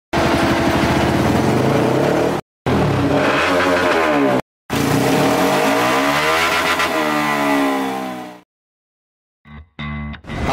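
A motorcycle engine revs hard and loud on a power test after an exhaust change, in long rising and falling bursts broken by brief cuts, then drops to silence before short revs return at the end.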